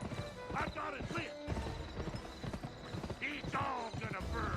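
Hooves clip-clop in a rapid gallop and a horse neighs in a video game, with urgent voices talking over the action.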